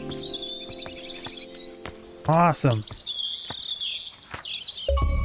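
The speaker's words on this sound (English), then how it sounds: "Look at all the birds coming back." Birdsong in the video game Botany Manor: bright, repeated high chirps and tweets run throughout over soft background music, with a brief spoken exclamation mid-clip.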